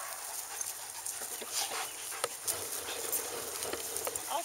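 A dog pants quickly and steadily up close on an outdoor off-leash walk, the breathy rhythm running throughout over a wash of background noise.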